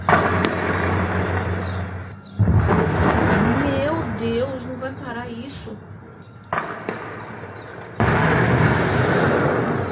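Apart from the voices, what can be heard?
explosions from bank robbery blasts at night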